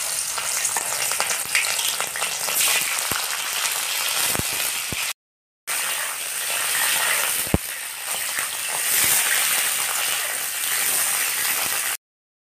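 Cauliflower frying in mustard oil in a wok, a steady loud sizzle with crackling pops, broken by one brief silent gap.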